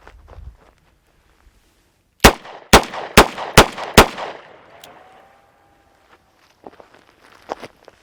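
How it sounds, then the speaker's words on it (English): Five loud, sharp revolver shots from a Smith & Wesson J-frame 642-2 fired at 4 yards, spaced evenly about half a second apart, followed by faint ringing and a few quieter clicks. "I'll be firing the first cylinder out of this revolver from 4 yards."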